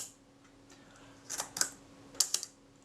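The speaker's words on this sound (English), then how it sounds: "Fire the shutter." A Kodak Retina IIIc camera shutter set to 1/8 second is cocked and fired, giving a couple of faint quick mechanical clicks followed by another pair of small ticks, close and quiet.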